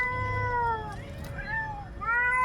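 A cat being chased by a puppy lets out long, wavering meows and yowls, two drawn-out cries separated by a brief pause, loud and close over a low background rumble.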